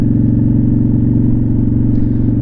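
Honda Shadow motorcycle engine running steadily with a low, even rumble, close and loud throughout while the rider shifts up to second gear; no voices.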